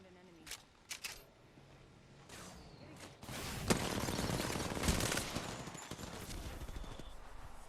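Sniper and other gunfire in Apex Legends, a few sharp separate shots early, then a denser stretch of rapid firing and impacts, fairly loud with game effects around them.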